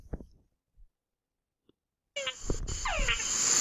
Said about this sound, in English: So this is what a Tungara frog sounds like.